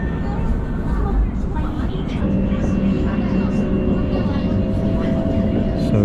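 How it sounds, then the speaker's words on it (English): A high-speed train rumbles past close by with a steady low roar and a faint high whine, while someone talks over it. "We have a high-speed train just getting away from us as well."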